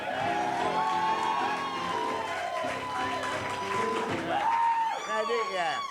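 A live studio audience cheers, whoops and claps as an actor walks out on stage. The crowd noise is lively and sustained, with shrill whoops rising and falling over a wash of applause, and voices call out.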